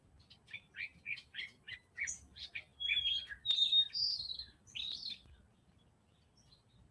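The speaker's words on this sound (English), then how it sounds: "I've got the birds back here." Backyard birds chirp in quick, bright bursts, a rapid series of short tweets followed by a few longer whistled calls, fairly close against quiet surroundings.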